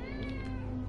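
A cat in a video game gives one drawn-out, loud meow, close and clear, lasting just under a second.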